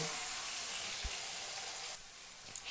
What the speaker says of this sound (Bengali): পরিমাণ মতো নুন দিয়ে আমি আবার কষে নেব